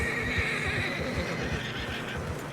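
A horse in the video game Red Dead Redemption 2 whinnies and snorts, struggling through fresh snow, with soft rhythmic hoof thuds underneath; the sound is fairly quiet and has no voices over it.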